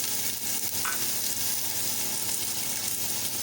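Finely chopped onions frying in a cup of oil in a pot, a continuous even sizzle close by and alone, with no voices.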